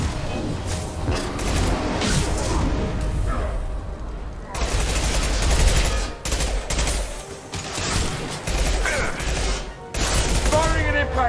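Dense, rapid gunfire and a concussive shot blast in Mass Effect 2 combat, repeated bursts of shots and booms near and loud, with voices calling out under the barrage.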